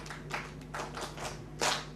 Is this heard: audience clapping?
yes